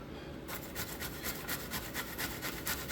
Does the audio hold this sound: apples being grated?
yes